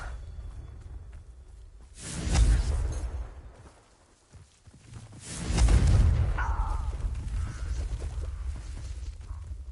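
A Confringo blasting spell going off in a video game, with two swelling explosive bursts a few seconds apart, each a deep boom with a whooshing rush and debris, over a low rumbling background.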